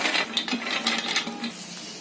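Cashews and almonds dropping into a mixer jar, a quick close patter of small hard nuts clicking against the jar, busy and fairly loud for two seconds.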